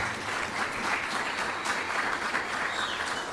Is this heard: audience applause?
yes